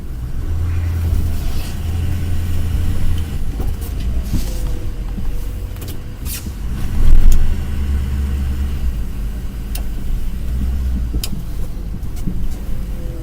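A rebuilt truck engine fitted with a different turbo rumbles steadily at close range, a heavy low drone with a brief swell in loudness partway through and no talking over it.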